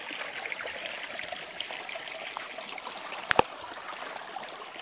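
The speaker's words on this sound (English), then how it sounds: "I'm down in the creek right here now." A mountain stream flows at a steady gentle rush nearby, with a sharp double click partway through.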